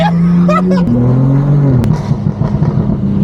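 A heavily modified BMW M2 accelerates hard, its engine tone climbing and shifting through gears before settling into a rough, loud rumble.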